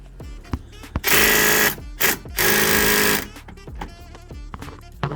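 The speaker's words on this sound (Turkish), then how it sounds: "Sonra ilk önce ağır lokma şeyiyle, hiltiyle sıkacağız." A Hilti power wrench tightens bolts, probably aboard a ship, in two loud sustained bursts of whirring and rattling broken by a short pause, with clanks and handling noises before and after.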